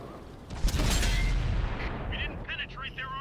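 A T-34-3 tank's main gun firing in a tank video game, one heavy booming shot near the start that rolls off into a rumbling tail as a voice speaks over it.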